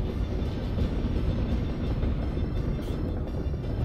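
Electric freight train in the Soviet-themed city-building game Workers & Resources, a steady loud rumbling drone with a rolling low-end roar that stays constant throughout, with no speech over it.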